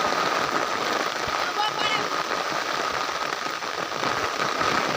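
Heavy monsoon rain pours steadily on surfaces in a Panchmahal village, a dense, loud, unbroken patter that fills the scene.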